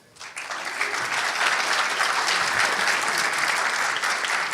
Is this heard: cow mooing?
no